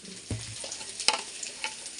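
Potatoes and chili sizzling in oil in a pan, a soft continuous fry punctuated by a few stirring knocks and scrapes.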